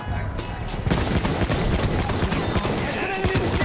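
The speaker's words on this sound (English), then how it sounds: "It's an enemy machine gun!" Enemy machine gun fire in Battlefield 1 in a dense, continuous rattle of rapid shots, loud and close, with a chaotic battlefield wash underneath.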